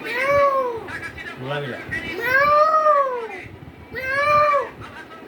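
A voice imitates a cat meowing: three drawn-out, rising-and-falling meows, close and clear, separated by short bits of speech.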